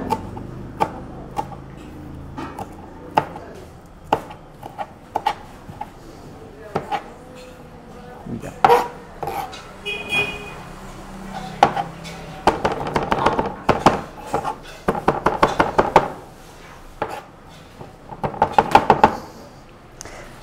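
Knife chops mint leaves finely on a board in an irregular series of sharp taps, sparse at first and then quicker in dense bursts, near and fairly loud.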